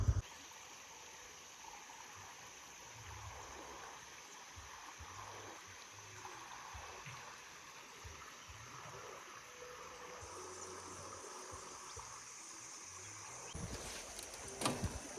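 A stream flowing beside a tented campsite at Doi Mae Mon in Chiang Rai, a faint steady rushing babble throughout with a few soft knocks and a louder rustle near the end.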